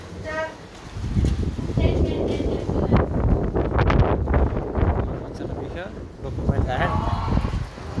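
Strong pre-storm wind gusts across a rural yard with loose tin roof sheets, roaring and buffeting hard against the microphone in surges while someone talks over it.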